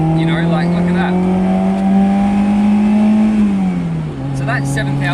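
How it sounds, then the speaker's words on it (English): Fiat X1/9 with a 74-horsepower 1300cc four-cylinder engine revving hard while driving on a winding road, a loud steady engine drone climbing in pitch and then dropping at a gear change, with someone talking over it. "But it revs, it's a wheeling motor"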